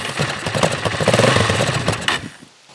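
Honda CRF230 dirt bike engine running at a low, rough idle close by, a steady throbbing chug that cuts out abruptly near the end, leaving near silence.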